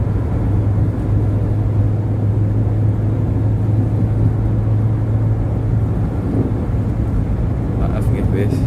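A bus overtaking a car on an Indonesian toll road, heard as a steady low engine drone and road rumble with wind noise throughout, while someone talks over it from inside the car.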